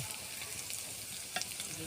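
Flower fritters frying in hot oil until reddish-brown, giving a faint, steady crackling sizzle with small pops scattered through it and no voices.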